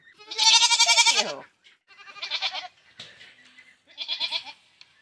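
A goat bleats before morning milking: one long, loud, wavering bleat, then two shorter ones, close by, with a little handling noise between calls.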